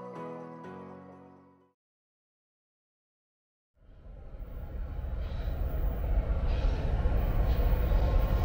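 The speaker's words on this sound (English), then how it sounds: "The first train that's going to start out this video is a night train." A CN freight train passes at night in rural central Illinois: a soft tonal horn-like sound fades out, a couple of seconds of near silence follow, then loud, steady low rumble and rolling wheel noise build and hold close by.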